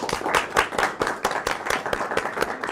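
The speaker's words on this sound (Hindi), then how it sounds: "इन सब दोस्तों के लिए क्लैपिंग कर दे जिन्होंने हमारे चैनल को सब्सक्राइब किया हुआ है" A small group claps steadily in fast, uneven bursts at a one-million-subscriber celebration event, the claps close and fairly loud, with no voices over them.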